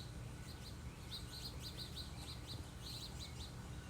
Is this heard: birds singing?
yes